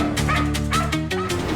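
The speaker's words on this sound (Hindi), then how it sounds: "इसीलिए पिया का वो कुत्ता बार बार भौंक रहा था।" A dog gives a quick run of yelping barks and whines, close and fairly loud, in a dramatic crime-show scene.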